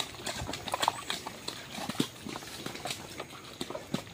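A horse walks along a mountain trail, its hooves making soft, irregular clip-clop thuds on the ground, faint and somewhat distant under light outdoor noise.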